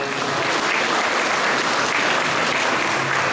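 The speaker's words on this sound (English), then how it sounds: "Make sure to give him a big round of applause." Audience applauding a backing musician at an accordion band Christmas concert, a dense, steady wash of clapping that fills the room evenly from start to finish.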